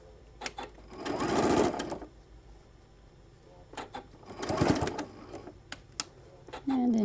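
A sewing machine stitches all the way across pleated fabric strip sets for a shoulder bag, running in two sustained whirring bursts separated by a pause, close and clear, with a few soft clicks and handling sounds between runs.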